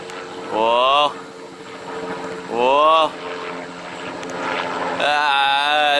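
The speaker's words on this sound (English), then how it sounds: "away from that distraction of the helicopter noise there" A helicopter flies far off in the distance, heard as a faint steady rumble beneath bursts of excited talk and wind noise.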